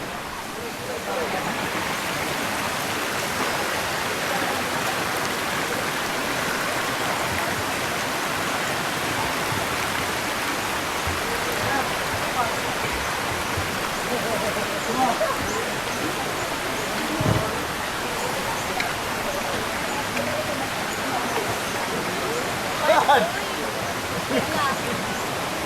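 Cambugahay Falls on Siquijor pours into shallow pools with a continuous hiss of rushing water that lasts the whole stretch. Occasional brief louder splashes and faint voices sit within the steady wash.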